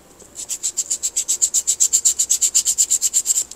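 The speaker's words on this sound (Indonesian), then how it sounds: "Kita amplas dulu kontak pointnya." Voltage regulator contact points being sanded by hand, a fast, steady series of about twenty short rasping strokes in even rhythm, close and fairly loud with no talking.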